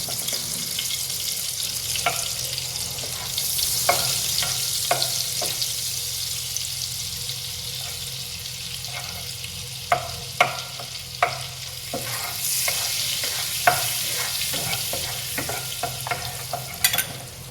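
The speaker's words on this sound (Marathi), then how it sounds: "बटर घालायचं. बटर चांगलं वितळून द्यायचं." Butter melting in a hot pan for a mushroom dish, giving a steady soft sizzle throughout with scattered light clicks and scrapes of stirring, no voices.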